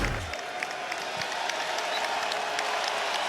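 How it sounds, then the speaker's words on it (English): A home arena crowd at a Houston Rockets playoff game applauds steadily for the Rockets starters, a dense, sustained wash of clapping and crowd noise that holds at an even level throughout. "the Rockets starters getting a standing ovation from their crowd"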